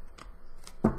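Tarot cards are shuffled by hand in a quiet room, giving a few brief papery riffles and taps, the last one louder and closer.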